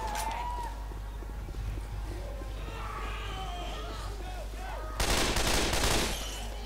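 Gunfire in the video game Left 4 Dead 2, a loud, dense burst of rapid shots lasting about a second near the end, over a continuous game rumble, with players talking earlier.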